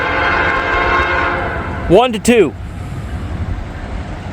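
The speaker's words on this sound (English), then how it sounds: "Here comes the train." A CSX freight train rolls through a crossing and sounds its horn in two short, loud blasts over a steady rail rumble, with a person briefly speaking nearby.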